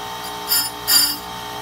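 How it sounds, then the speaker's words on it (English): A Blackstone spinner dresses a skate sharpening wheel in two quick grinding passes, each a brief rising hiss lasting under half a second, over a steady machine hum. "to dress the wheel perfectly and accurately, this is all it takes"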